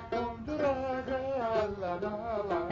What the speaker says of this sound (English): This is the sound of a musical instrument.